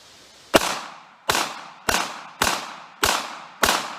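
Six sharp gunshots from a Ruger LCP Max .380 ACP pistol firing Critical Defense ammunition, evenly spaced about half a second apart, each a loud crack with a short decaying tail, alone without talk.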